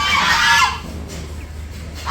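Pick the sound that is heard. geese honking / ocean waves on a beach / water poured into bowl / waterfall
geese honking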